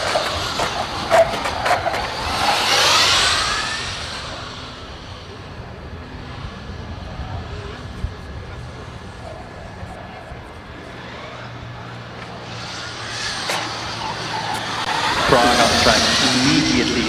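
Formula Student race car on a manual autocross lap, its engine whining as it passes close, fading into the distance and returning near the end, heard over steady background noise.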